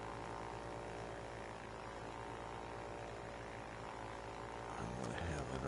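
A propeller aircraft engine in UltrawingsVR 2 drones with a steady harmonic hum, held fairly quiet and even before the pitch shifts near the end as the throttle is pulled back.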